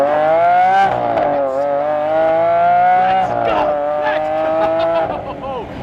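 A supercar engine accelerates, a loud close harmonic roar rising and shifting in pitch with brief dips between gears, as a person speaks briefly over it.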